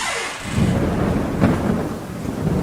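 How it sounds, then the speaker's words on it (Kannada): Heavy rain pours steadily while thunder rumbles and rolls through it, staged as a sound effect in a radio play, loud and continuous throughout. "ಅಬ್ಬಾ, ಏನ್ ಮಳೆ, ಅದೇನ್ ರಭಸ"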